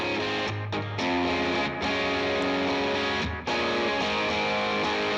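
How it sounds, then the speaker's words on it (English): A distorted Stratocaster electric guitar plays loud, sustained buzzing chords with brief breaks between them, heavily saturated and continuous. "It's my Strat."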